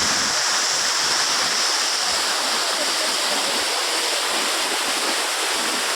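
Vazhappara waterfall in Kerala rushing continuously, a loud, dense, steady roar of falling water with no breaks or voices.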